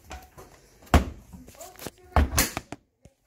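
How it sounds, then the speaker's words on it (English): A washing machine door is shut during cleaning, giving two solid thuds with softer handling clatter around them. "Now just shut your washer door."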